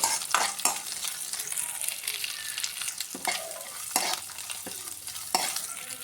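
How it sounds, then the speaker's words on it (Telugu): Sago and almonds frying in ghee, a steady soft sizzle punctuated by regular scraping stirs of a spoon in the pan, close and uninterrupted by voices. "బాదం కూడా మంచిగా ఫ్రై చేసేద్దాం ఘీలో"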